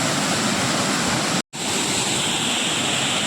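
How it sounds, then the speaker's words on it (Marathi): Ozar waterfall at Bhiravande in Kankavli, Konkan, roars as a steady, dense rush of falling water close by, cut by a split-second gap midway before the roar resumes. "तो बघा धबधबो"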